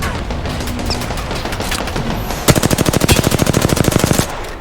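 Automatic gunfire in Apex Legends, a loud rapid burst of evenly spaced shots lasting nearly two seconds after a stretch of quieter game ambience, with no talk.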